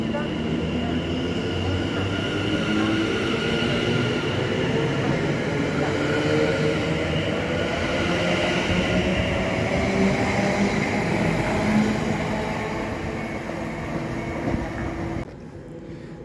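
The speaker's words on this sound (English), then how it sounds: "just a couple of trains going through" Trains rolling through Wickford Station in Essex: a long, loud, rumbling pass with rising and falling wheel and motor tones along the platform, fading near the end.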